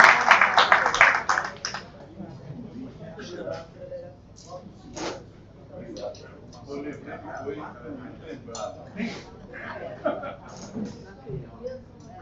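An audience at a lecture on the centenary of radio applauds loudly for the first two seconds, then the clapping fades under scattered room noise and murmuring.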